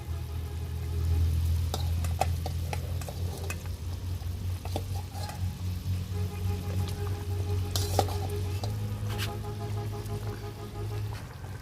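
Braised hilsa fish goes into a pan and sizzles steadily, with occasional clinks and scrapes of stirring over a continuous low frying hiss.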